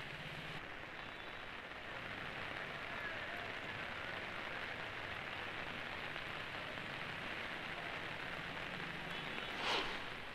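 Heavy rain pours steadily over Mumbai, a dense, continuous hiss of drops on surfaces that stays even throughout, with one brief sharper clatter near the end.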